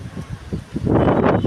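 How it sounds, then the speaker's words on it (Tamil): Gusty wind rumbles against the microphone, building from soft puffs into a louder, sustained roar near the end. "நல்லா காற்று வீசிட்டு இருக்குங்க."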